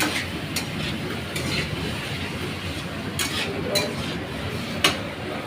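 Food stirred in a pan while cooking in a home kitchen, with steady scraping and occasional sharp metallic clinks of a utensil against the pan, fairly close.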